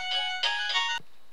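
A phone rings in one short electronic tone burst, stops briefly, rings again and then cuts off, fairly faint and with no talk.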